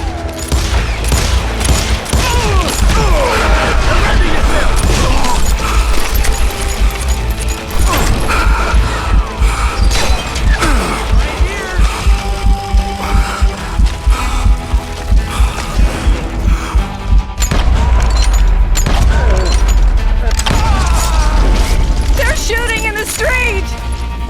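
A frantic shootout in Call of Juarez: Gunslinger, with a shotgun among the weapons, sounds as loud, continuous gunfire and crashes over a heavy low rumble. Voices shout and talk through the din.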